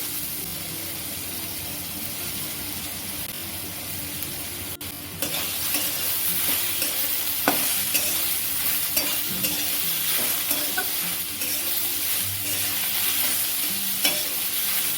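Greens with bitter gourd leaves and eggplant fry in a pan with salt and turmeric, a continuous hissing sizzle that jumps louder partway through as the mix is stirred and scraped, with no talk.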